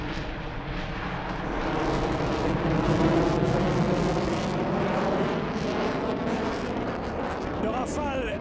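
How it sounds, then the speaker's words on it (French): A Dassault Rafale twin-engine fighter jet roars loudly and continuously during takeoff at an air show solo display, a broad thundering rush that swells and holds, with a voice speaking over it. "The taking off the Rafale."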